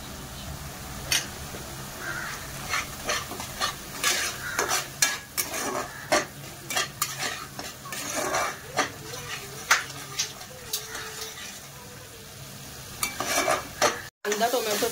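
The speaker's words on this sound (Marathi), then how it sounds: "कांदा टोमॅटो पेस्ट मस्त परतून झाली आहे, शिजली आहे छान तेलामध्ये" Onion and tomato paste sautéing in oil for a veg korma, with a soft sizzle under repeated scraping and stirring strokes of a spoon against the pan, irregular and close.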